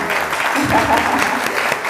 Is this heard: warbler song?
no